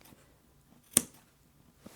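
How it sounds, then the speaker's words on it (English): Scissors snip a fabric seam allowance close to the stitching line while sewing a neck pillow: one crisp, close cut, then a fainter second snip in near silence. "Just take a pair of scissors and do a little snip really close to that stitching line."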